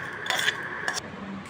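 Rava pulihara being mixed with its tempering in a metal vessel, a few quick clinks and scrapes of a spoon against the pot, close and moderately loud with no one talking.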